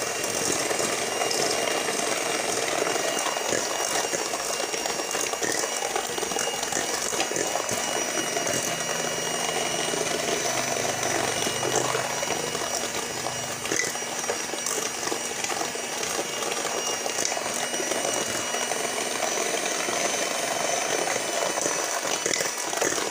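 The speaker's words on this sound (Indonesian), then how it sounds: "Kita kocok kembali pemirsa ya sampai putih mengental berjejak ya." Electric mixer beating egg batter for a one-egg steamed sponge cake until white and thick, a steady dense whirring rattle running continuously and fairly loud throughout with no talk.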